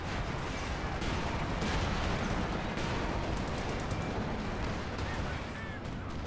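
Priest self-propelled artillery opening fire in Company of Heroes 2, a dense, continuous rumble of booming shots and blasts from a large battle, with a voice faintly under the barrage.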